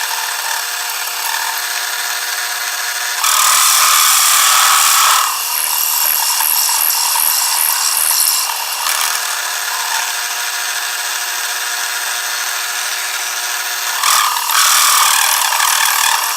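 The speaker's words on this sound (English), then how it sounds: "I'm just turning it down a little bit. So, let's get turning." A lathe turning down a part held in a four-jaw chuck, giving a loud continuous high cutting whine that rises sharply in intensity for stretches as the tool bites, then settles back.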